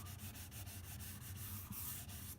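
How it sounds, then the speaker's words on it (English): The bevels of a guitar body are hand-sanded, giving a steady, close rasping rub with regular back-and-forth strokes. The sound is fairly quiet and there is no talking. "this is kind of a delicate operation doing the sanding the bevels"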